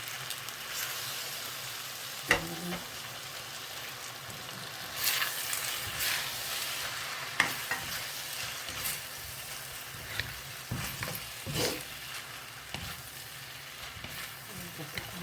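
Sour bamboo shoots stir-fried with glass noodles, basil leaves and fresh chillies give a steady sizzle with scraping and clanking spatula strokes, and a voice talks over the cooking.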